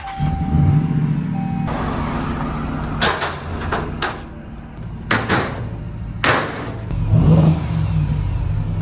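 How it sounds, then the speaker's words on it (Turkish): A BMW X3 engine rumbling and revving on a street in Yonkers, New York, with several sharp throttle blips rising over a steady idle and nearby traffic noise. "Video çekeceğim de ara gazı falan veriyorum."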